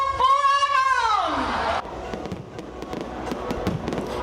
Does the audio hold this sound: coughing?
no